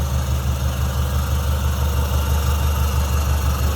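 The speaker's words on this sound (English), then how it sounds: "See how smooth it runs? Nice running flatty." A 1950 Mercury Monterey flathead engine with a tri-power carburetor setup idles smoothly, a close, steady low rumble with an even pulse and no change in speed.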